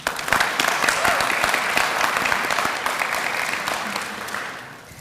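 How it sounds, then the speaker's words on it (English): A crowd at a college school of education pinning ceremony claps steadily for the faculty, a dense, sustained round of applause that holds loud for about four seconds before tapering off. "so if we could give them a round of applause"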